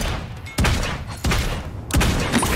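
Gunfire in the video game Realm Royale: three sharp, loud shots spaced evenly about two-thirds of a second apart, each with a short ringing tail, and no talking over them.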